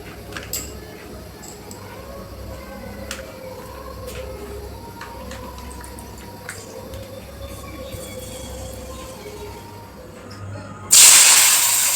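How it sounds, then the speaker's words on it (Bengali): Bora fritters frying in hot oil give a steady, dense bubbling hiss that runs unbroken through the whole stretch, with scattered faint clicks, before a sudden louder, brighter burst of noise in the last second. "আগে বড়াটা ভেজে নেব।"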